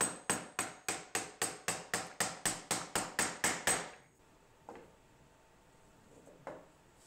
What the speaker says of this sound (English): A few taps with the mallet and it's home snug